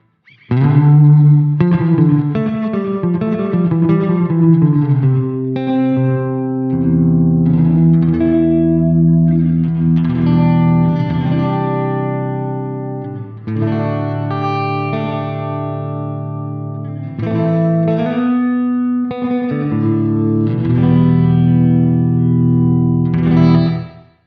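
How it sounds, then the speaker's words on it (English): An electric guitar plays a slow melodic passage through a Chase Bliss Meris CXM 1978 reverb pedal, each note ringing out with a lingering, washy tail. "we'll bring the reverb time down a little bit, maybe brighten it up"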